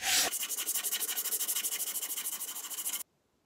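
Wood is sanded by hand in quick, even back-and-forth strokes, a close, loud rhythmic rasping of about two dozen passes that stops abruptly into near silence.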